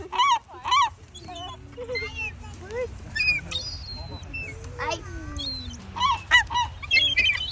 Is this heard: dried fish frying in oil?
no